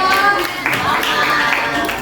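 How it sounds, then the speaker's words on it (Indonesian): Clapping from a class or workshop group after a group presentation, a burst of many hands together with voices talking over it, moderately loud and close throughout. "Tepuk tangan untuk kelompok 1A."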